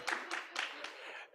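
Audience at a business launch conference clapping in a few brief bursts, close and fairly light, fading out after about a second.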